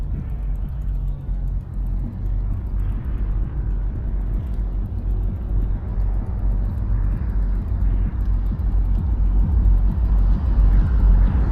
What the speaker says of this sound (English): Support car. You can hear it coming now.